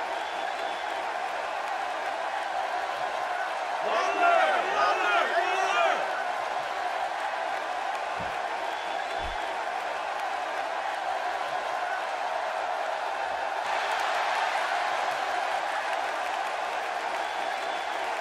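A packed wrestling arena crowd roars and cheers for a wrestler's ring entrance, a steady dense wall of noise with a louder swell of whoops and applause early on and another surge near the end.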